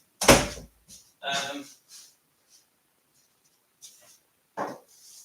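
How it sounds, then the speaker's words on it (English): A door shut indoors gives one loud, close thump at the start, followed by scattered lighter handling knocks and clatter. "Shut this door."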